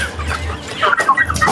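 Chickens cluck close by while pecking at melon seeds, with short, choppy, nasal clucks and squawks coming in quick irregular bursts.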